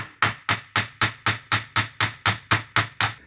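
A hammer strikes a rivet on the bracket of an RCA Victor 26BP radio case in a rapid, even series of about a dozen sharp metallic blows, close and loud with no talk.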